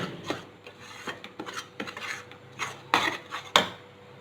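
Thick Mysore pak batter of gram flour and ghee stirred in a pan as ghee is added, giving irregular close scraping and rasping strokes of a utensil against metal.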